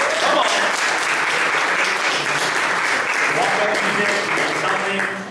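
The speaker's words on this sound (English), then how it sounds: "round of applause, let's call up Rhonda, Zach, and Adam" Audience applause at a startup marketing lunch-and-learn event, steady and loud throughout, with some voices and cheers mixed into the clapping.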